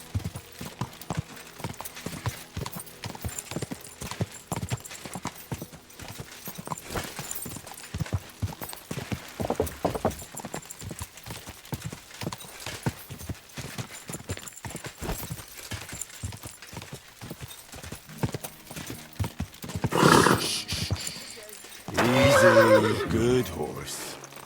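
Horse hooves clip-clop steadily while a horse neighs loudly near the end, amid busy game sounds and occasional speech.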